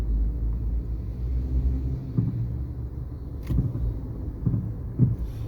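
Cars idle in a traffic jam on the South Coastal Highway in St. Thomas, heard from inside a vehicle as a low steady engine rumble with occasional soft thumps and creaks.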